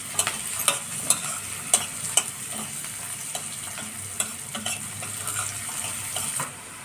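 Onions with turmeric sizzle steadily in a pan while a spatula stirs them, with several crisp clicks of the utensil against the pan early on, close and fairly loud with no speech.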